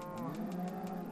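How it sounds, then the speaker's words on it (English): A cow moos in Minecraft, a single short, close call on the farm. "So this is mostly just my cow farm, as you can see. A bunch of cows."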